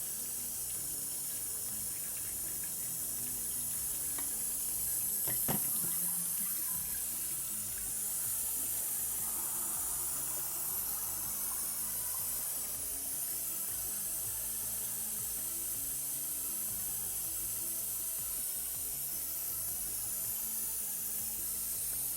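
Tap water runs steadily to rinse developing film, a continuous close hiss and splash with one brief clunk partway through.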